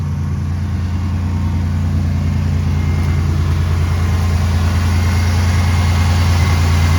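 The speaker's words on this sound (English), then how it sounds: "That is the sound of healthy 3800 in case you've never heard one." A healthy GM 3800 V6 engine idles steadily with a low, even rumble and a smooth mechanical hum, close to the microphone and unchanging throughout.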